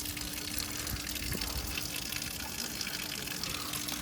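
Hot spring water pouring from a public tap in Sofia, a continuous soft gushing and splashing with a faint steady hum underneath, fairly quiet and unbroken, with no talking.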